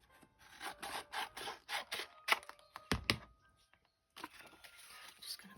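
Scissors cut through paper or material for a handmade flip flop journal: a close, quiet run of rhythmic snips and rubbing crunches, then a short pause and a softer final stretch of cutting.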